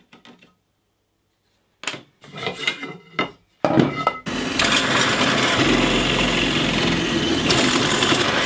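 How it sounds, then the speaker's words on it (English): A drill bores holes for S brackets in a canoe portage trolley frame built from recycled materials. A few knocks and handling sounds come first, then the drill runs continuously and loudly to the end. "I've drilled my holes for the S brackets."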